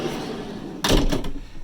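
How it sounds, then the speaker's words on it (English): The sliding cargo door of a Mercedes Sprinter 2500 4x4 van rolls along its track and thuds shut, one brief near rumble and knock after a low steady hum. "Door slides pretty nicely."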